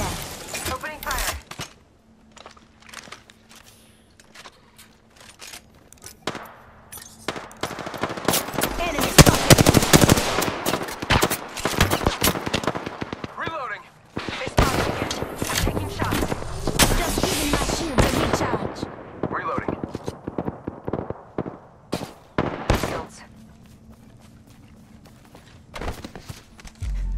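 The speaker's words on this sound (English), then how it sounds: "I'm getting shot at. Hostile over there. Opening fire." Gunfire in Apex Legends: dense bursts of rapid automatic shots that come and go over about twenty seconds, with quieter gaps between them and occasional game voice lines.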